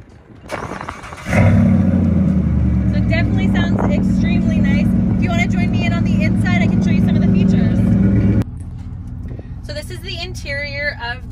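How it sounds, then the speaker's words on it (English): A 2018 GMC Sierra SLT engine roars to life via remote start with a deep, loud aftermarket exhaust rumble that idles steadily for several seconds, then cuts off; a voice talks over it. "You also do have remote start with an aftermarket exhaust."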